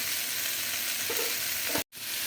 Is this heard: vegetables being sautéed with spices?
yes